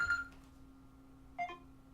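A phone gives two short electronic beeps about a second apart, quiet against a low steady background hum.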